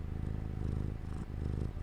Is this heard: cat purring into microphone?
yes